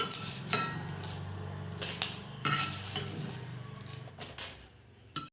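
Curry leaves are re-roasted in a pan, heard as soft rustling and scraping with intermittent metallic clinks of a utensil against the pan.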